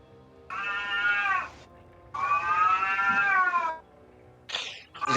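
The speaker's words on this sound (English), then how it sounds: "The cat knows." A house cat meows twice in long, drawn-out, whining cries, close and fairly loud, then starts a third shorter call at the end, with no talking.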